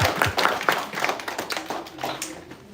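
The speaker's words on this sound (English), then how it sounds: "A huge round of applause for that last" A small audience at a public speaking competition claps after a speech, a short burst of close, scattered handclaps from a few people that quickly thins and fades.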